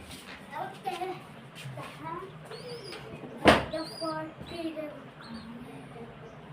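Soft cooing from pigeons close by in their coops, mixed with quiet chatter and a sudden sharp bump midway; voices murmur underneath.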